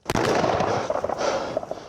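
A burning car explodes after a single-vehicle crash, opening with a sharp blast and followed by crackling, popping bursts and roaring flames that carry on throughout.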